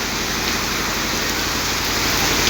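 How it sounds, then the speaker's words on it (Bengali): Heavy rain pours steadily over fields and small ponds, a dense, loud, unbroken hiss with no pauses and no voices. "বৃষ্টি তার ইচ্ছা মতো নামছে"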